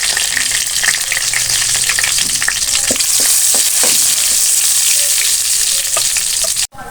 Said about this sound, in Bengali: তেলটা গরম হয়ে গেছে, আমি এ পর্যায়ে দিয়ে দিচ্ছি কিছু গোটা জিরে, দুটো শুকনো লঙ্কা বা মরিচ